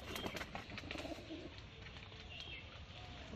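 Patiya Madras pigeons in a loft coo softly and continuously, with faint chirps and a few wing flutters mixed in, sounding quiet and close without any talk.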